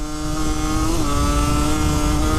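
A Yamaha DT 125 R motorcycle, thirty years old, runs steadily close by, its engine holding a loud, even buzzing tone with a slight rise and dip in pitch midway, no voices present.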